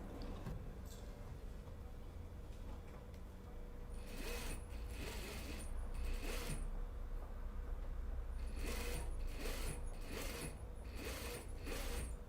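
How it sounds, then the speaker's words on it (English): A sewing machine stitches a collar stand onto a coat, with quiet mechanical whirring that breaks into several short bursts of rapid needle clatter, spaced out with pauses between runs. "We are stitching the collar stand to the coat."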